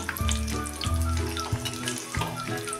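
Masala peanuts deep frying in hot oil, a dense steady sizzle with bubbling, close by, with a few low clanks of a slotted spoon turning them, no voices.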